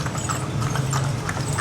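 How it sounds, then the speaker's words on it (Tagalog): Hero, a horse on the heritage streets of Vigan in the Philippines, clip-clops along at a steady walking rhythm, close and fairly loud over constant street rumble. "And this is our horse."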